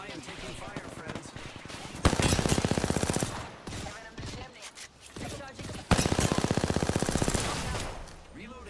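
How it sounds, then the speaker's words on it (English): Automatic gunfire in the battle-royale shooter Apex Legends, two sustained bursts of rapid, evenly spaced shots, loud and close, with game voice lines and chatter in between. "I am taking fire, friends"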